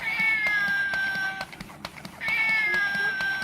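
Toy cat from Disneyland gives two electronic meows with a thin whine, separated by a brief gap of clicking and handling noise, close and clear.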